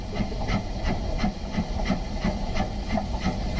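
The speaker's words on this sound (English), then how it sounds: "I love going on these steam trains." Steam locomotive in the Train Sim World 2 simulator hisses steadily, a continuous broad rushing of steam with faint rhythmic chuffing pulses underneath, loud and close with no talking.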